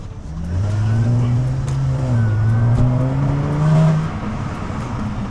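Close, loud Range Rover Sport engine revving with the pitch rising and falling in a couple of swells before settling to a rougher idle.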